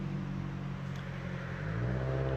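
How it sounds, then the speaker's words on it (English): A loud car on a street on the far side of a hill gives a low, distant engine rumble that builds and rises steadily toward the end, heard alone without talk. "that car has to be really loud because that street is on the other side of that hill"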